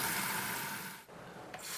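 Faucet opened to draw water through an on-demand gas water heater, a soft steady rush of flowing water that briefly dips and resumes, faint and close.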